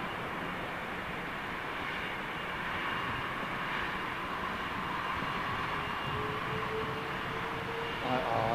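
A jet airliner's engines rumble near Heathrow Airport in London, a broad, steady roar that holds throughout at moderate distance, with no talk over it.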